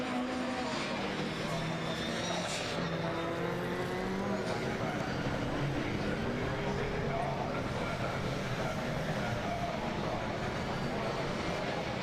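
Modified Mini race cars at the Brands Hatch circuit race down the Brabham Straight toward Paddock Hill, engines droning loudly and continuously with shifting pitch as the pack passes.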